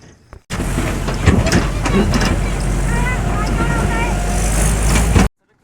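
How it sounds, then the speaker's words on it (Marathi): A tractor drives along a waterlogged, potholed farm road, its engine a steady loud rumble throughout with wind buffeting the microphone, and a voice or two faintly audible beneath the noise. "जो ट्रॅक्टर बघू शकता एकदम चांगला ड्रायव्हर आहे ते बघू शकता निघालेला"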